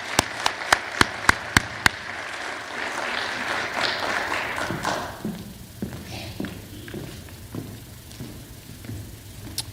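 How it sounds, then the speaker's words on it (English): Sharp, sparse individual claps at an academic symposium, then a softer, scattered round of audience applause with murmuring, fading toward a few isolated claps. "join me in a round of applause for Annabelle McMillan"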